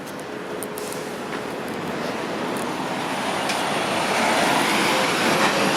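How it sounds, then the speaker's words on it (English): A train passing near Alliance Avenue and Humber Boulevard in Toronto's Rockliffe-Smythe area, a broad steady roar that builds slowly louder, with no talk. "I want to see if I can get one of the train going by."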